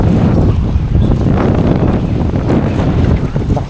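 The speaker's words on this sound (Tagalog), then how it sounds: "Lakas ng hangin, oh." Strong wind buffets the microphone while riding a Coswheel T24 electric bike, a loud, continuous roar of low rumbling gusts.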